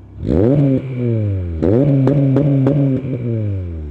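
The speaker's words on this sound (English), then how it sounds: "I love the dual exit exhaust stock." A Honda Accord Euro CL9's loud engine revs up sharply, drops, then revs again in quick repeated blips, its deep dual-exit exhaust note rumbling close by.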